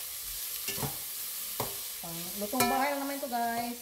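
Escabeche of tangege fish being sautéed and stirred in a pan, a soft steady sizzle with a few utensil taps, while someone talks over it.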